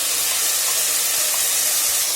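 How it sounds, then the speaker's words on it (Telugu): Ground masala paste frying in hot oil with ginger for an egg sambar, giving a steady, close sizzling hiss that runs evenly throughout with no talking. "ఇప్పుడు రుబ్బెట్టుకున్న మసాలా అయితే వేసి వేయించుకుంటున్నాను"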